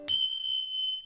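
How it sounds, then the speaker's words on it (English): A single bright bell strike rings out, leaving a clear, sustained metallic tone that hangs and slowly fades for about a second. "Slowly mastering the bells."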